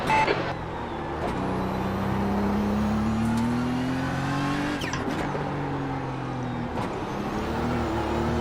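GT3 race car engine in the iRacing sim at Okayama, revving loudly and steadily with pitch rising and falling as it is held in second gear through slow corners, with a few brief sharper bursts.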